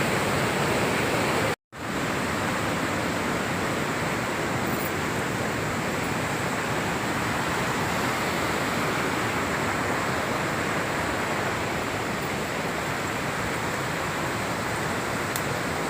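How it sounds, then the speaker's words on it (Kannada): Tunga river backwater near Gajanur Dam in Shivamogga rushes in a steady, dense wash of flowing water, loud and unbroken apart from a momentary dropout near the start. "ನದಿ ಸೌಂಡ್ ನೋಡಿ ಎಷ್ಟು ಚೆನ್ನಾಗಿ ಕೇಳ್ತಾ ಇದೆ"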